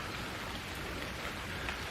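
Steady rain falls during a bike trip, an even, dense patter with no pauses, fairly loud and close, with no voices.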